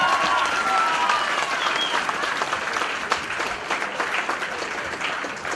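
A crowd at a combat sports event applauds after a three-round bout between two young fighters, a loud sustained wash of clapping and cheering that slowly tapers, with an announcer's voice briefly audible beneath it.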